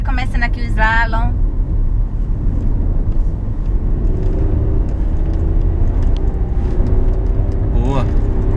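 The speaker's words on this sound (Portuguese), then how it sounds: "Tenta manter em terceira marcha 80 km por hora. Agora com você. 80 por hora, começando aqui o slalom." A 2017 Volkswagen Golf 1.0 TSI turbo holds third gear at about 80 km/h through a slalom, its engine and road rumble loud, close and steady throughout, with a brief voice near the start.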